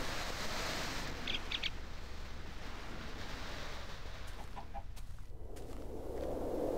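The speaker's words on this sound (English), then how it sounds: "I heard a chicken." A Minecraft chicken (Tekkit mod) gives brief, faint clucks over a steady wash of ambient game noise like surf, with a few more small clucks later and no speech.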